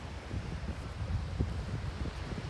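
Light wind blows steadily at the seaside on the Tahara-Irago coast in Aichi, Japan, a soft continuous rushing and buffeting against the microphone with no voices.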